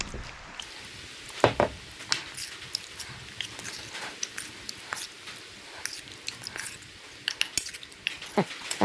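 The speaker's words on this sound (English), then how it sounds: "I can stir that all up now with my spoon." A spoon stirring salmon jerky marinade with garlic in a bowl, giving intermittent clinks and scrapes with wet swishing, close and fairly quiet with irregular rhythm.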